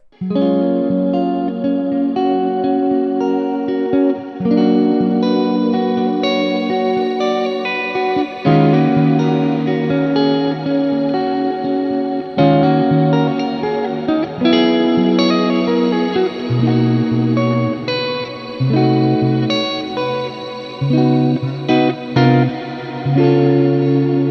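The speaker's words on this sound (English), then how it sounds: "3 essential passing chords for neosoul guitar" Electric guitar plays smooth, jazzy chord changes drenched in chorus and reverb, sustained and continuous with no voices.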